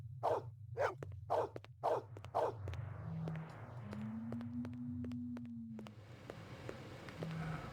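Maggie, a dog in the 1997 Westwood Blade Runner video game, gives five sharp, evenly spaced barks close up, followed by a steady electronic hum and a few synthetic tones.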